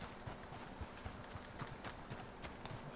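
Horse hooves clip-clop in a steady walking rhythm in the video game Red Dead Redemption 2, soft and fairly close, over a noisy background.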